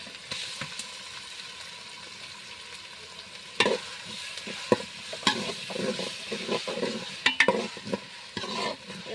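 Chopped ginger, garlic and onion sautéing in a pan: a soft continuous sizzle, quiet at first, then irregular spoon scrapes and knocks against the pan as the mixture is stirred, close by.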